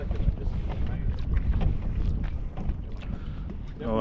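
A 4-foot kayak being launched into the water, heard as a dense, loud rush of wind and water noise with scattered splashes and knocks, with voices mixed in underneath.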